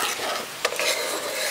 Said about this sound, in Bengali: দুধটা ভালো করে ঘিয়ের সাথে মিশিয়ে দিচ্ছি।